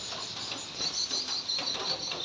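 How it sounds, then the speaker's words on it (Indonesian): Light drizzle falls on a roadside on a Monday morning in Tanjung Pura, a soft steady hiss with faint patter throughout, fairly quiet with no talk. "Gerimis rintik-rintik."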